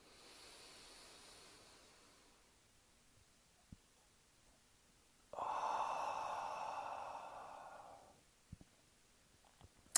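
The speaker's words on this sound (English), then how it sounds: "So just take some deep breaths." Slow, deep breathing: a faint, drawn-out inhale, a pause, then a louder, breathy exhale lasting a few seconds, with a few soft clicks in an otherwise quiet room.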